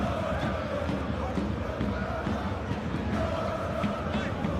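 Simulated stadium crowd in the eFootball 2021 football game gives a steady, loud roar of applause and cheering, with voices speaking over it.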